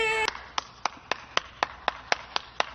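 A single person clapping slowly by hand, about ten crisp, evenly spaced claps that follow a brief voiced sound at the start.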